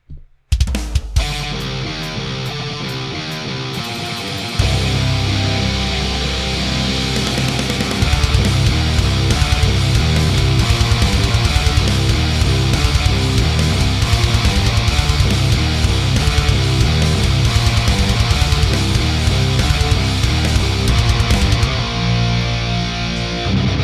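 Programmed drum track with toms and a flam plays back loud and dense for over twenty seconds, a full driving mix with heavy low end and steady hits after a quieter opening.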